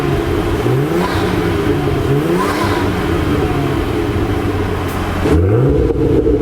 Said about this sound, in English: Let it idle down and warm up, and we'll give it a few revs here in a few minutes.